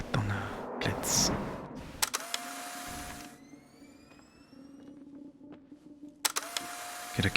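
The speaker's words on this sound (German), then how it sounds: "Ey, jedes Mal, wenn ich diese Kamera aktiviere." A camera activates in the game The Suicide of Rachel Foster, a loud mechanical whir and click followed by a rising electronic whine, the clicking burst repeating near the end, with a few quiet words spoken.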